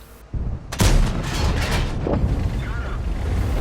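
Tank cannon fire in World of Tanks from a WZ 120, a sudden heavy boom followed by a long rumbling roar and echoing battlefield noise that stays loud to the end, with no talk.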